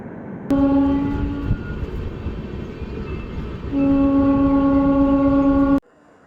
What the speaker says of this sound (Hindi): काशीगुड़ा भगत की कोठी क्रॉसिंग, दोनों ट्रेन एक जैसी।